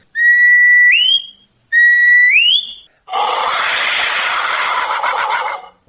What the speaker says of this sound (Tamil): ஒவ்வொரு வகையான விசிலுங்கிறது ஒவ்வொரு வகையான பறவைகளையும் விலங்குகளுடைய சத்தத்தையும் எழுப்பக்கூடிய ஒன்றா இருந்துச்சு